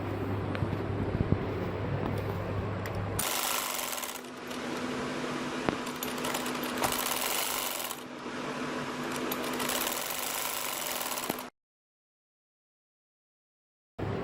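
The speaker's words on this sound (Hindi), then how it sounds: "अब मैं सिलाई लगाने लगी" A sewing machine stitches a kurta with a continuous, close mechanical whir in long runs broken by brief pauses, then stops abruptly into silence.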